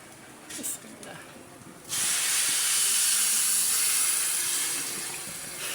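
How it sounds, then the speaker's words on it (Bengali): Water added to a hot pan of long-fried food erupts into a loud, steady, close steam hiss and sizzle that holds for several seconds before easing slightly. "গরম পানি ভাপ উঠতেছে"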